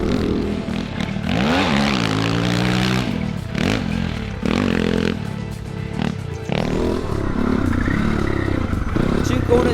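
A motocross bike is pushed hard around a dirt track lap, its loud close engine revving and shifting up and down through the corners and straights without a break.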